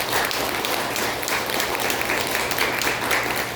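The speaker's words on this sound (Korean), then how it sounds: "한번 박수로 환영하겠습니다." A church congregation gathered for a Christmas service applauds to welcome new members, a dense, steady wash of many hands clapping together at full strength without a break.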